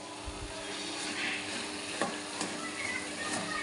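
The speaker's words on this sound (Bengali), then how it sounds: "খুন্তি দিয়ে এইভাবে উপর নিচ করে নাড়িয়ে দেবেন" Cabbage stir-frying for a vegetarian Bengali dish, with a steady sizzle and soft scrapes and turns of a spatula working the shreds up and down in the pan, close by and without talk.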